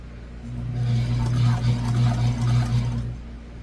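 A sewing machine runs steadily while stitching around the corner of a couch cushion cover, a close, loud, continuous motor hum with rapid needle chatter that slows briefly then stops near the end.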